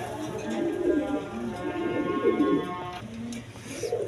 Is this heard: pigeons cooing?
yes